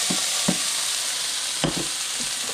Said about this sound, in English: I'm going to throw my French fries in.